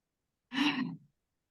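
A single audible inhale during standing qigong practice, a close, breathy intake of air lasting about half a second, isolated in quiet.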